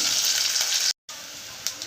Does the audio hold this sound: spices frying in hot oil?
yes